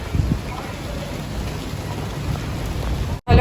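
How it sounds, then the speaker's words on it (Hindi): Light rain falls steadily outdoors as a dense, even hiss with soft low rumble, continuous and fairly loud, briefly cutting out near the end before resuming. "और हल्की हल्की बारिश भी हो रही है।"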